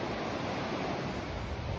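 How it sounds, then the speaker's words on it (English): The Housatonic River in Connecticut rushes around a small island where it joins the main stream. The water makes a steady, full hiss with no talking, unbroken for the whole stretch. "That's a legitimate river."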